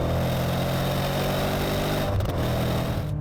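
Maserati GranSport exhaust with its valves held open in sport mode, a continuous loud, harmonically rich engine note droning steadily close by, with a brief shift in pitch partway through.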